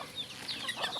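Chickens raised for food cluck softly on a small backyard farm, a few faint, close clucks and chirps over a quiet, brief moment.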